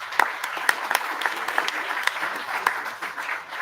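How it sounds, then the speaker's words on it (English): Scattered conference audience applause, a thin layer of clapping with several distinct sharper claps standing out, moderately loud and tapering slightly toward the end. "I think she definitely deserves a round of applause."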